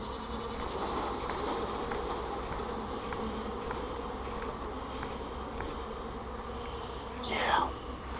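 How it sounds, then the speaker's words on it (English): A nuc of honey bees being transferred into a hive gives off a steady, close swarm hum that holds level throughout, with a soft rustle near the end as frames are handled. "I think I might have to shake off some of these bees"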